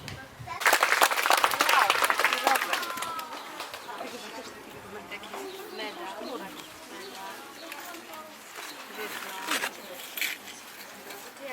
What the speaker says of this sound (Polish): Brawa jeszcze raz dla Karolka.